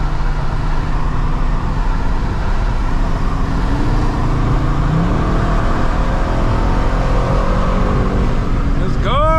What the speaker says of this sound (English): We're about to go ahead and drop some gears right quick.